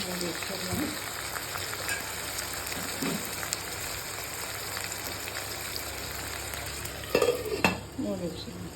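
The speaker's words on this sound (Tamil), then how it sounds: "தக்காளி வெங்காயம் நல்லா மேஷ் ஆகட்டும்." Chopped tomatoes and onions sizzle and fry in a pan while being stirred and mashed for an eggplant kootu, a steady soft crackle with occasional louder scraping clatters of the utensil against the pan.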